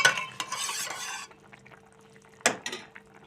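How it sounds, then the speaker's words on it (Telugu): Tamarind juice splashes into a pot of simmering okra stew, followed by a short scrape of stirring, then a second clink and stir against the pot after a quiet pause. "ఇప్పుడు దీనిలో కొంచెం అంతా చింతపండు రసం అయితే నేను వేస్తానండి"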